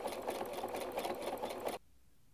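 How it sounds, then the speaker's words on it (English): Sewing machine running steadily as it stitches elastic shirring thread, a loud continuous whirring motor hum for nearly two seconds that then stops abruptly, leaving near silence. "And then I'm just going to carefully start sewing, making sure that my elastic stays right in the middle there, so it's being stitched over."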